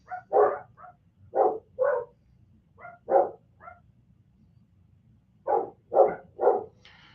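Dogs bark upstairs, coming through muffled and moderately loud in uneven clusters of two or three barks with short pauses between them.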